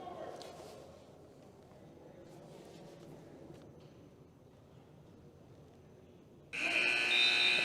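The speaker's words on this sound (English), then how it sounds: "And the buzzer sounds, ends period one" A loud, steady electronic buzzer ends a period at a high school wrestling match in a gym. It cuts in abruptly after low crowd noise and a commentator's voice.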